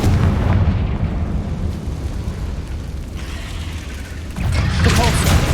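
Confringo blasting spell explosions in the Hogwarts Legacy video game: loud booming blasts over a continuous rumbling roar, with a swell of renewed explosive noise near the end.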